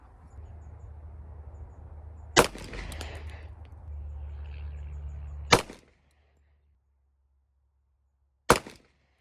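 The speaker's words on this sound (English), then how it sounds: "we're gonna shoot 3 more shots with those 230 grains around those flat points." Three sharp, loud shots from an EAA Witness .45 ACP pistol firing 230 grain flat-point rounds ring out a few seconds apart, each with a short tail over a low rumble.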